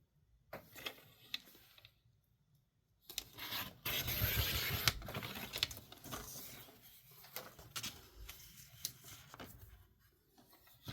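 Paper for a junk journal candy box is trimmed with a trimmer, giving quiet rasping slides and rubbing strokes in short bursts with pauses, close and soft.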